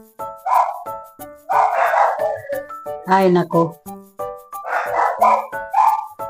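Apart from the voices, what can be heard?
dogs barking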